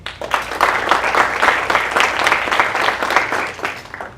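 Audience applause at a launch challenge event, a dense steady clapping that swells and holds for about four seconds, loud and close with no talk over it.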